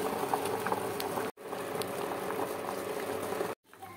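Liquid boils on an induction cooker for a malai sandwich, a continuous bubbling rumble with light popping, interrupted by two brief silent gaps.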